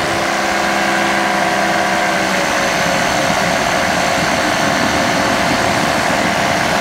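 A 20-horsepower Dragonfly ultralight aircraft engine runs at full power in flight, a loud, steady, close drone whose pitch shifts slightly partway through.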